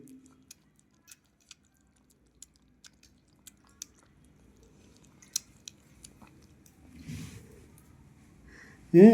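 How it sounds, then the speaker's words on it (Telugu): A hungry cat eats food up close, making a sparse series of soft, crisp chewing clicks in a quiet room. A louder rustle and bump come near the end. "చక్ చక్ చక్ చక్ అని సౌండ్ చేసుకొని తింటుంది"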